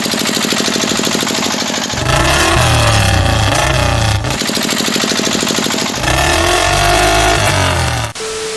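Royal Enfield Bullet 2021 motorcycle engine pushed to high speed, a loud, sustained mechanical drone that surges and eases in alternating waves, with a brief dip near the end.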